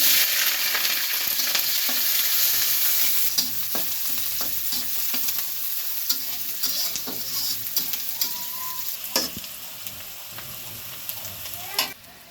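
Dried whole chili, chopped onion, garlic, green chili and cinnamon fry in hot oil in a pan, a steady loud sizzle running throughout with scattered stirring scrapes and clinks, easing slightly toward the end.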